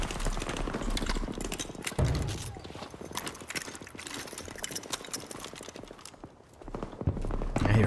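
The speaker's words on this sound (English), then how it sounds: "I hear footsteps." Rapid, rhythmic footsteps in the shooter video game Battlefield 2042 during team deathmatch, dense steady patter mixed with game noise and intermittent louder thumps.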